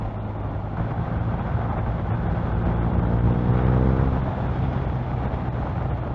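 A BMW R1250R motorcycle engine on a road test ride drones steadily and close, its tone climbing as the revs build midway and then settling.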